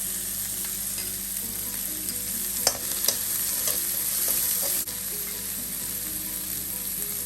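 Chopped vegetables with cabbage and a pinch of sugar sauté in a hot pan for veg fried rice, giving a constant close sizzle with a few sharp spatula scrapes and clacks.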